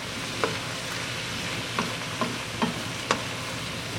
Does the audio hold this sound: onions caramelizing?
yes